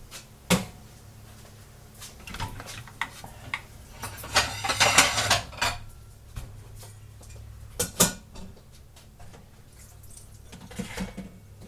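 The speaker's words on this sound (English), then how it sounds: "drain this water." Water is drained from a pot of beans after an hour of boiling in a home kitchen. Quiet splashing and pouring come with sharp clinks and knocks of the pot and colander, and the sound swells in the middle.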